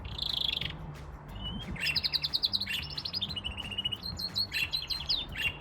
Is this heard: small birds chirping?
yes